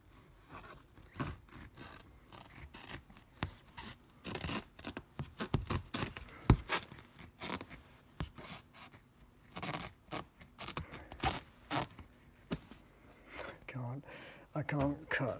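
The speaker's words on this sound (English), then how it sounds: "what I'll do is I'll trim it around the edge now" Roof lining being trimmed around the edge inside a Lancia Integrale with a sunroof, repeated scratchy rubbing and cutting strokes in irregular bursts, close and fairly quiet throughout.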